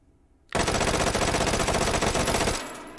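An SR3M carbine fitted with a muzzle brake fires a sustained full-auto burst of about two seconds in the game H3VR, loud rapid shots beginning abruptly after a short silence and then cutting off into a fading echo.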